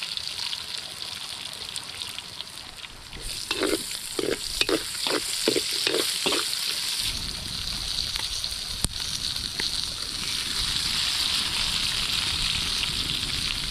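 Ginger frying in a little oil while the cook stirs, with a steady close sizzle throughout and a short run of rhythmic scraping stirs near the middle.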